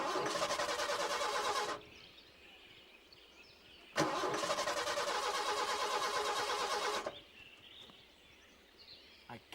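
The engine of a breakdown vehicle is started. Two loud, close cranking bursts of about two and three seconds each are followed by a low idle-like rumble.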